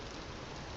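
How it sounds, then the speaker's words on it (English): Rain in the Vintage Story video game falls as a dense, steady hiss of drops, soft and continuous with no breaks. "this rain is giving me a headache"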